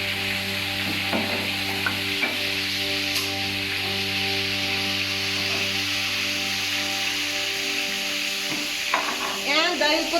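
Bihon guisado noodles with soy sauce fry in a pan, a steady close sizzle with light stirring scrapes and clicks running throughout, and a brief voice near the end.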